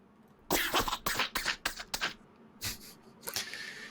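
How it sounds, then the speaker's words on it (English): A string of raspy, wheezing coughs from a video game sound effect in quick bursts, then a couple more after a short pause, close and fairly loud with no talking. "Let's give him a wheezy cough."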